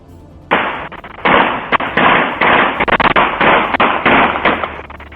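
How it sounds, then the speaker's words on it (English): A rapid series of sharp, loud bangs cracks out in irregular bursts, each blast broad and harsh, with no voices. "The shots were fired repeatedly"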